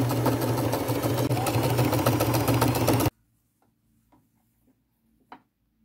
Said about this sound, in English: come in a little deeper and do another row of top stitching